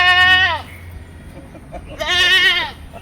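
A male goat at a goat market in Harike Kalan gives two loud, close bleats, one at the start and one near the end, with quieter market background noise between them.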